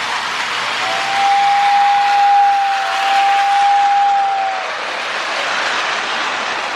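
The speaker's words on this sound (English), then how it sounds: "Such a mournful whistle on it." A restored Lionel 260E toy steam locomotive sounds its whistle in one long, steady, mournful tone lasting a few seconds over a hissing, rushing background, close and fairly loud.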